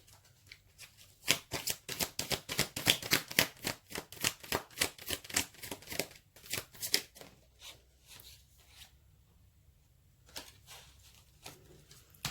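Tarot cards being handled and shuffled: a dense run of quick, crisp riffling flicks close by, then slowing into scattered slides and taps with pauses, no one speaking.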